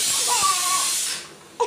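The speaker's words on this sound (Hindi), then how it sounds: "ये मेरा दाल पक रहा है" Steam hisses steadily from a pot of dal cooking on a village stove, broad and fairly loud for most of the moment before dropping away, then a short burst of louder sound at the end.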